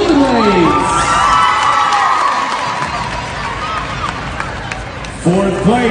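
A crowd at a cheerleading competition cheers and whoops for a junior cheer team during an awards announcement, loud and continuous with children's shouts, and an announcer speaks over it near the end.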